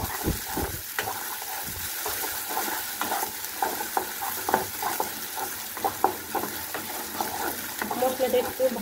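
A spice paste of ground ginger, garlic, coriander and cumin fries and sizzles in a pan while a spoon stirs and scrapes it in irregular knocks, steady hiss underneath, close and fairly loud, no talking.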